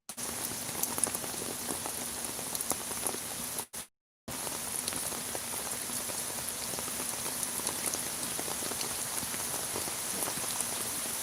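Heavy rain pours steadily over a village in Sylhet, a dense, continuous hiss of drops on surfaces that breaks off for a moment near the middle before resuming at full strength.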